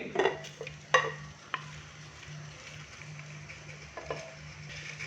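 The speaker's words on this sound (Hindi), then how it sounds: "मटन हांडी बनाने के लिए हम मट्टी की हांडी में मटन डालेंगे पहले" About one kilogram of mutton pieces drops into a clay pot for mutton handi, giving a few soft wet thuds and clatters near the start, then quieter shuffles and knocks over a low steady hum.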